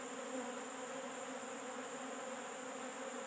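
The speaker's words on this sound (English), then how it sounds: "These are bees from somewhere else." Robber bees from another colony swarm a struggling beehive entrance covered with a wet towel, a dense, loud, steady buzzing drone up close that never lets up.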